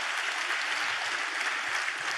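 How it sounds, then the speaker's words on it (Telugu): A congregation claps steadily in praise during a Christian sermon, a dense, continuous wash of applause filling the whole moment with no pauses. "చప్పట్లు కొడుతూ స్తోత్రాలు చెప్దాం"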